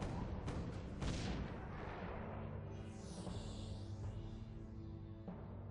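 Cannons fire in the Defense Grid tower-defense game, a dense run of booming shots and blasts layered over a constant low rumble, loud and continuous with no talk.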